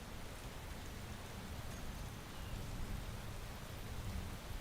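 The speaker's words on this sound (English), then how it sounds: "Whatever that is, rain heavy. That's quite probably a storm, and I don't like that." Heavy rain pours steadily with rumbling thunder underneath, a dense, continuous wash of noise heard close and loud throughout, with no voices.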